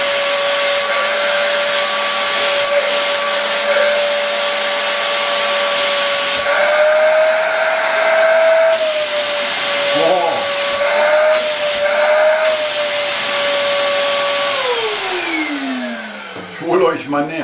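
An extraction fan on a sandblasting cabinet runs with a steady loud whine that shifts pitch partway through, then spins down near the end. Faint voices and handling noises sit beneath it.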